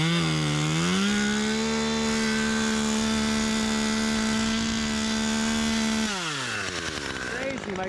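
A 39cc top-handle chainsaw revs hard, holding a loud, steady high-pitched whine for several seconds before the throttle drops off and the engine winds down, close up.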